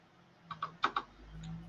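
Several quick, crisp keyboard clicks in a short burst, fairly close and moderately loud, with a faint low hum underneath while entering coordinates for a Minecraft roller coaster build.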